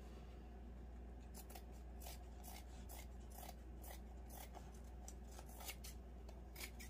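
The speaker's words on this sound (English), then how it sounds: "We'll cut some, we'll make little slits all along the bottom here." Scissors snip a row of small slits along the bottom edge of fabric for a handmade Christmas tree gnome, a quick series of faint, close crisp cuts over a low steady hum.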